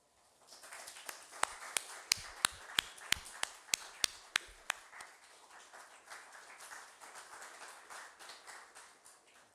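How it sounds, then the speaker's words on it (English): An audience at a university lecture claps: a few loud, sharp hand claps stand out near the start over softer scattered clapping, which carries on and slowly thins out at a moderate distance. "Give big applause."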